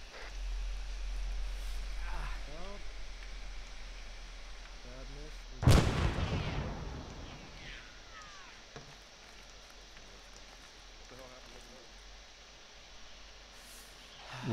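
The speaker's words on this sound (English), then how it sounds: "Rocket!" A sharp, heavy rocket blast booms in the ArmA 3 video game, with a long decaying rumble after it, while distorted radio voices speak quietly before and after over steady background noise.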